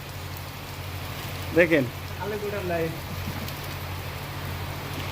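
Steady rain falls outdoors on linemen working on power lines, a constant broadband patter with low electrical hum underneath, and someone speaks briefly over it.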